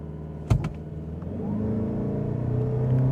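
A 2025 Mazda CX-50 Hybrid in power mode launches from a standstill after a sharp thump, its engine droning steadily louder as it accelerates toward 60 mph.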